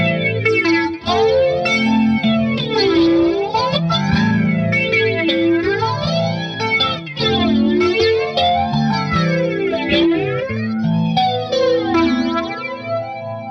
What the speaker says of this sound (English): Let's try the chorus into the phaser